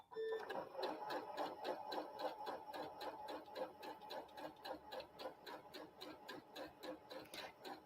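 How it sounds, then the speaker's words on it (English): A sewing machine runs steadily while chain piecing quilt blocks along a line, with a rhythmic mechanical whir and repeated ticking stitches, close and continuous. "you'll chain piece all 8 on the one side and sewing directly on that line"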